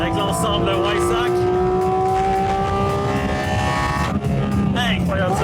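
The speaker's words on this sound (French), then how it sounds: "la 718 Cayman GT4 RS, voiture à moteur central, quel son exceptionnel" A mid-engined Porsche 718 Cayman GT4 RS with the Weissach package sings a loud, sustained high-revving engine note that climbs steadily through the gears, heard from on board, with a brief dip near the end.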